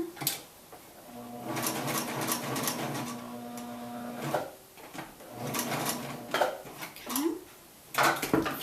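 Sewing machine stitching and back-stitching fabric for a challah cover: a steady mechanical whir over a few seconds, stopping and restarting, with scattered clicks and handling clatter between runs.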